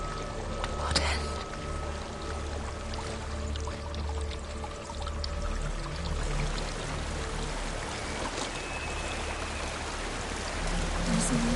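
Water flows steadily in a game setting, a continuous broad wash of running water that carries on for the whole stretch, moderately loud and without interruption.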